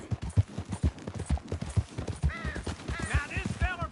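In the video game Red Dead Redemption, a horse trots with a steady, close clip-clop of hooves, joined near the end by higher chirping calls over the hoofbeats.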